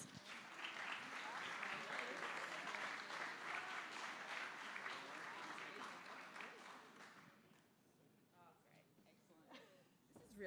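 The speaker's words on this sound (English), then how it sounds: "Another round of applause." Dense, steady applause from an audience at the 2020 AILA WA Landscape Architecture Awards ceremony, honoring an award winner; it holds strong for about seven seconds, then thins out and fades, leaving faint scattered sounds.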